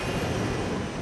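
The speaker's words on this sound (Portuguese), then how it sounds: "Conforme o avião acelera na pista" An airliner on TAM flight 402 at São Paulo accelerating down the runway for takeoff, a steady loud engine roar with a broad rumbling wash and a faint high whine.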